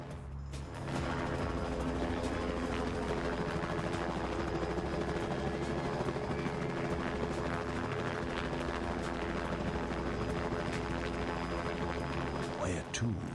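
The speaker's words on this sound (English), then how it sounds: "Is this supposed to be like helicopter noise?" A helicopter in the Vampire: The Masquerade – Bloodlines video game gives a steady, loud mechanical drone with rhythmic rotor chop that runs unbroken for almost the whole stretch.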